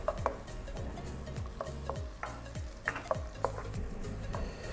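Finely chopped onion fries in a drizzle of olive oil in a hot pan, with a low sizzle under repeated close stirring scrapes and light clinks of a utensil against the pan.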